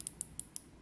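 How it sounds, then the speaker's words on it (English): Steel diver's watch bezel, 120-click unidirectional, on a StarKing Pro Diver automatic being turned, giving five or six crisp, faint, evenly spaced clicks, close up and alone. "120 click unidirectional blue and gold tone steel bezel"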